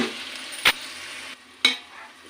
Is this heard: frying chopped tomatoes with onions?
yes